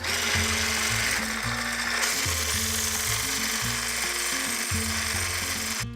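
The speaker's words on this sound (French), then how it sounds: "On va monter les blancs en neige." Egg whites with a pinch of salt and a little sugar being whipped to stiff peaks by an electric mixer, its motor whirring loudly and continuously with a pitch that steps up and down, no voices.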